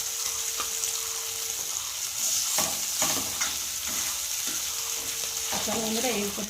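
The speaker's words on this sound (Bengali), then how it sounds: "অল্প অল্প করে ভাজবো, না তো গায়ের সাথে গায়ে লেগে গেলে তো মাছ উঠবে না।" Steady, loud sizzling of small morola fish frying in oil, with occasional scraping and stirring knocks from a utensil in the pan.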